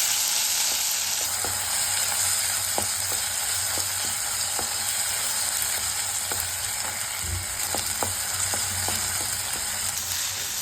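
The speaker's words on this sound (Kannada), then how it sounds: "ಟೊಮ್ಯಾಟೊ ಹಾಕಿ ಟೊಮ್ಯಾಟೊ ಸಾಫ್ಟ್ ಆಗೋ ತನಕ ಫ್ರೈ ಮಾಡ್ಕೊಳ್ಬೇಕು" Tomatoes frying in a pan with chicken chops masala, a loud continuous sizzle with a steady hiss and scattered sharp crackles and pops, no talking.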